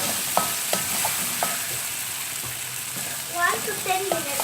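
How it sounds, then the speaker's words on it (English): Masala with coriander powder being fried and stirred in a pan: a constant sizzle broken by repeated clinks and scrapes of the spoon, close and fairly loud, with some faint voice-like sounds. "Little coriander powder. Mix it well."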